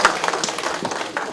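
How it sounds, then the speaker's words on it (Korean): An audience at a Democratic Party lawmakers' workshop in a hall claps to welcome a speaker, a short burst of fairly close, scattered hand claps. "뜨거운 박수로 맞이해 주시기 바랍니다"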